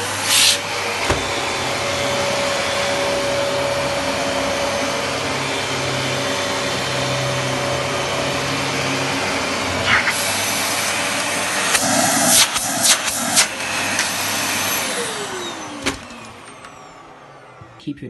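A Dyson DC33 vacuum cleaner runs steadily with a loud, broadband whir, shifting pitch near the end before spinning down.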